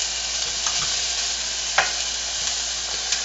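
Onions sautéing in a pan for pork adobo, a constant close sizzle with a few soft stirring scrapes and light taps breaking through.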